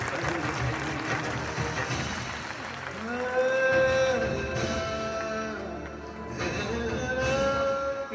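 An audience claps for a children's performance at a school annual day celebration, a broad wash of applause strongest at the start, with a compère's amplified voice speaking over it and music tones sounding later.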